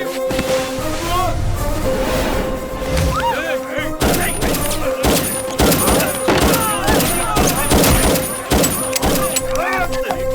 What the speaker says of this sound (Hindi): फायरिंग क्यों रोक दी? बुलेट्स खत्म हो गए।